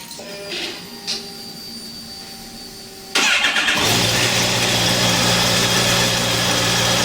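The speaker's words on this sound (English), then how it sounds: "So we're just going to start the bike." A Yamaha FZ8 motorcycle with a cylinder misfire is started in a workshop; after a quiet stretch with light clicks, the engine cranks and catches, then settles into a steady, loud idle that runs on unbroken to the end.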